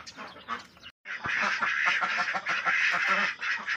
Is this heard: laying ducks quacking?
yes